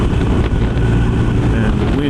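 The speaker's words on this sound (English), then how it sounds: "the wind is hitting me kind of right in the helmet, but it's a constant wind and it's not as noisy" Wind buffeting a rider's helmet on a 2020 BMW R 1250 RS motorcycle with the front shield at its lowest position, a loud, steady low roar that continues without a break.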